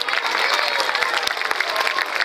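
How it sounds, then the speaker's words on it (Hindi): Loud, dense applause from an audience at a school event, cheering a children's dance group, with continuous clapping and a few scattered cheers for about two seconds. "तो एक बार जोरदार तालियां।"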